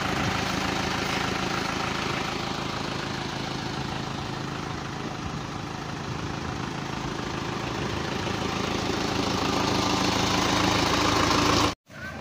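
A vehicle engine idles at a slightly high RPM, fitted with large tyres, running steadily and loudly up close with a rough, even drone for about twelve seconds before cutting off abruptly near the end.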